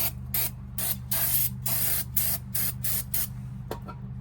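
Aerosol grease sprayed onto the brake pads and pins of an OBS Ford front wheel, loud close hissing bursts in about eight quick pulses, then a short final spurt.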